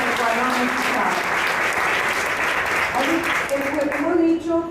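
Sustained audience applause fills a Venezuelan women entrepreneurs' forum, dense steady clapping that carries evenly throughout with a slight swell near the end.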